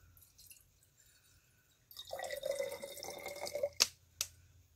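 Water pours briefly into an ink-swatching dip container with a bubbling, trickling gurgle, followed by two sharp clinks or taps.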